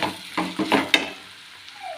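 Curry being stirred in a pan after chili powder goes in: a few scraping stir strokes with light sizzling, close and fairly quiet, ending in near silence.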